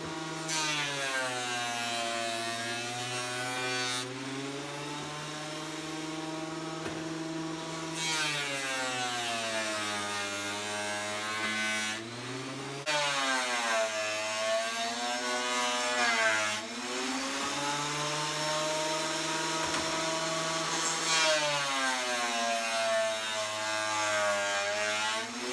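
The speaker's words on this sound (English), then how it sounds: "if you're going to run end grain through the planer, you take extremely light cuts" A wood planer taking extremely light cuts on an end-grain cutting board, with a loud, sustained motor whine that dips and rises in pitch as each pass loads the cutter, and no voices.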